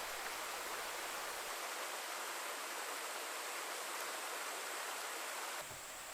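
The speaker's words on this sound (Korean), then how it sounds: "계곡물이 다시 많이 흐르기 시작한 부천동 계곡" A mountain valley stream at Gucheondong valley on Deogyusan flows in a steady, unbroken broadband rush of water, even and continuous throughout, with no voices.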